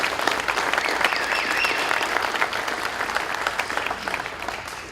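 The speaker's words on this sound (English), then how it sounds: "we'll start with just a round of applause for the honorees tonight" A gala audience applauds honorees with sustained, dense clapping that holds steady for the whole stretch and tapers slightly at the end, with a faint crowd murmur beneath.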